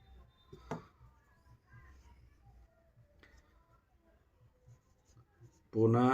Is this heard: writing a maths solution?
yes